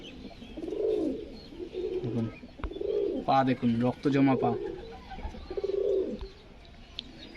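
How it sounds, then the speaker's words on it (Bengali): A pair of Malbai high-flying pigeons coo in repeated rising-and-falling rolls, close and clear, while someone talks over part of the calling. "দেখুন এটা হচ্ছে জোড়া মালবাই"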